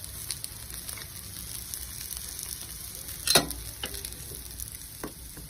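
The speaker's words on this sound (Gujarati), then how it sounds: "એક બાજુ શેકાઈ જાય એટલે આપણે બીજી બાજુ ફેરવી લઈશું। બંને બાજુથી આવી રીતના શેકી લઈશું।" Aloo tikki patties fry in a pan with a steady, quiet sizzle throughout, broken by one brief louder crackle near the middle and a few faint clicks, with no voices over it.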